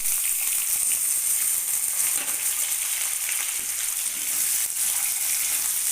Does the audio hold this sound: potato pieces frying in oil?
yes